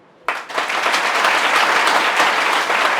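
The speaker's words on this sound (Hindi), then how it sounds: "तालियां हो जाए इस बारे में." Sudden burst of audience applause from a crowd at an interactive talk for aspiring armed forces officers, starting after a brief quiet and continuing as dense, steady clapping to the end.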